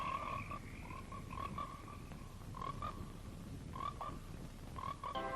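Frogs croaking near a pond in a 1970s horror movie trailer: repeated rhythmic croaks in short bursts over a steady background chorus, fairly close and clear, with no talk.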